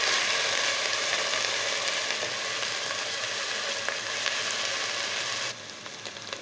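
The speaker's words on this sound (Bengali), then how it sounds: "পেস্টটা দিয়ে ভালোভাবে একটু হালকা বাদামি কালার করে নেব প্রথমত পেস্ট" Spice paste for a chicken and taro curry fries in a pan with a steady, dense sizzle, loud and close. The hiss continues unbroken and drops slightly in level near the end. No one speaks.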